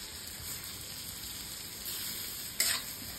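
Chopped tomato sautéing in a tava with golden fried onion: a faint, steady sizzle that flares briefly louder near the end, with no voices.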